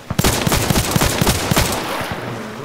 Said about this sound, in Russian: Постреляй по воде.